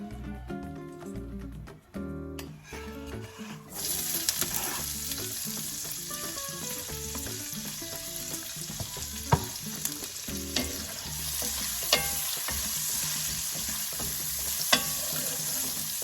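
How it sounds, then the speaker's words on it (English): Chopped onion and garlic frying in a pan over medium-low heat for chilaquiles, a steady close sizzle running throughout, starting quieter and swelling after a few seconds, with occasional stirring clicks and no talking. "I'm gonna go ahead and add in that onion and garlic on a medium-low heat"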